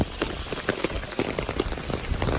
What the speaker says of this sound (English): what a mess from the rain